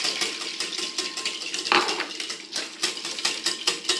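Milk and eggs being mixed in a large bowl, a steady busy scraping and clinking of a utensil against the bowl with quick irregular strokes throughout, one sharper knock partway through.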